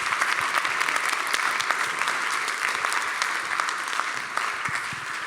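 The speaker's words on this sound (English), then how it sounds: "Please give her a big round of applause." Sustained audience applause fills a conference hall at a women's health event, a dense steady patter of many hands clapping at even loudness with no voices over it, continuing throughout.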